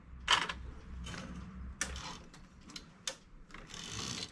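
A knitting machine carriage is pushed across a row on high tension setting while making a ruffled overall, giving soft mechanical clacks and rattling sweeps at moderate, fairly quiet level with no talk.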